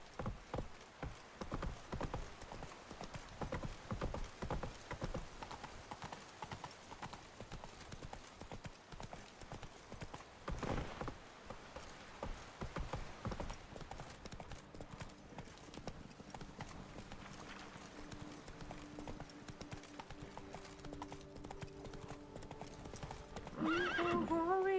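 Roach, a horse in a game, steps backwards with steady hollow clip-clopping hooves, a whinny in the middle, and a speaking voice briefly near the end.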